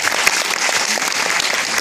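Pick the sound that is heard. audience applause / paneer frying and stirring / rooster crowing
audience applause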